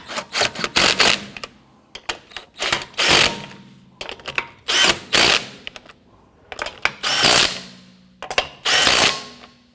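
Power tool snugging down lug nuts on a 2017-2020 Hyundai Elantra wheel, in repeated short bursts of rattling ratchet-like whirring separated by brief pauses, loud and close.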